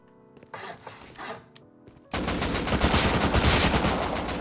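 Gunfire in a Roblox Bedwars match: a few scattered shots at first, then a sudden sustained burst of rapid, loud, densely packed shooting that continues to the end.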